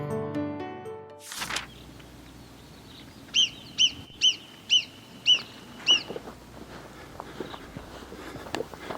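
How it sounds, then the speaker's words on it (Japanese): Birds sing along a hiking trail near the Matterhorn in Zermatt, Switzerland, with a run of six clear, repeated whistled notes at mid-distance, then softer scattered calls, after a loud rustle and footsteps on the path. "鳥の鳴き声を聞きながらさらに下っていきたいと思います。"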